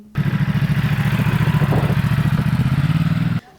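A motorcycle ridden by a man dressed as Santa, its engine chugging in a fast, even pulse at steady idle or low revs, loud and close, cutting off abruptly near the end.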